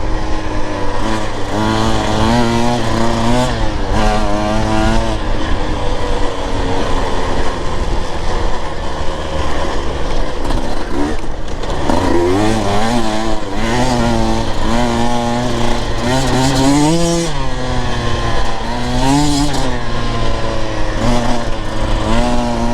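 A Husqvarna TE 150 TBI two-stroke dirt bike on its white engine map revs hard and continuously while riding, pitch rising and falling sharply as the throttle works on and off the pipe.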